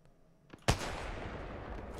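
A single sharp sniper shot in Apex Legends cracks out after a couple of faint clicks, followed by a brief rumbling echo.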